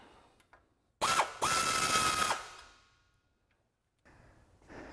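A ratchet wrench with a 19mm socket clicks rapidly in two bursts on a Toyota Tundra suspension bolt during a lift kit install, close and loud, with quiet gaps between and faint handling noise after.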